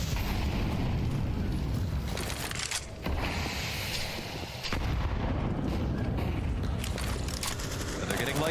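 Grenade blasts from a competitive first-person shooter match at a live esports finals, a dense run of booming bursts layered over one another across the whole stretch, with a caster's voice talking over them.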